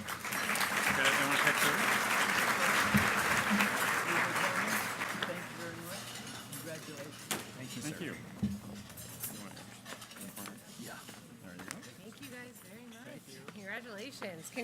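Loud audience applause at a transportation industry luncheon awards session, strong and sustained for several seconds, then tapering into scattered clapping and clinking dishes with voices murmuring in the room.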